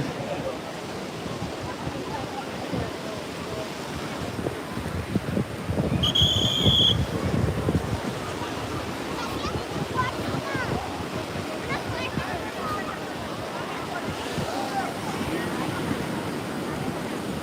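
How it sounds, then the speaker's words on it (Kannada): Sea waves break at Panambur Beach in a steady, close roar of surf, with wind buffeting the microphone throughout and a short whistle-like tone rising above it about a third of the way in. "ನೋಡಿ ಅಲೆ ಮಸ್ತಾಗಿ ಅಲೆ ಹೊಡಿತೈತೆ"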